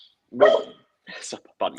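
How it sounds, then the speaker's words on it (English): A pet dog gives a sharp close bark followed by a couple of shorter yips, with a person briefly speaking between them. "that's my dog right there."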